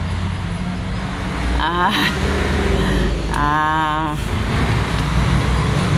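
Vehicles pass along a road near a spot where a car has broken down and lost a wheel, producing a continuous roadway roar. Brief voice-like tones cut through the passing traffic noise.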